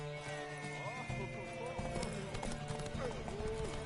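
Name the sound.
horse hooves galloping in The Witcher video game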